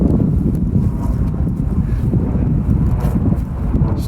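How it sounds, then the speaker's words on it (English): Strong wind buffets the microphone outdoors in a canyon among juniper, scrub oak and pines, a constant loud low roar with gusty swells throughout. "Stupid wind."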